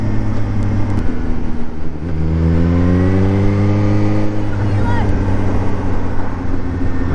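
Sports naked motorbike engine revving hard as it pulls a wheelie, the pitch climbing steadily and then dropping back, loud and close, with a voice briefly speaking over it.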